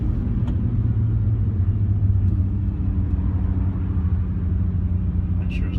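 Nissan GT-R R35 engine pulling in second gear, heard from inside the car as a steady, loud low drone with a constant rumbling undertone throughout.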